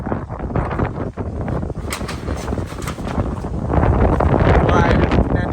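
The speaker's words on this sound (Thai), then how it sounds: "ว้ายแน่นี่ลม" Strong wind buffets the microphone outdoors at a house under construction, a loud, continuous rumbling roar that grows heavier toward the end.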